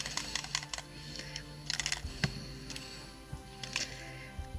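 A small mixing ball rattles inside a shaken Nuvo Mica Mist bottle, bursts of quick, close clicking clatter repeating in several short shakes.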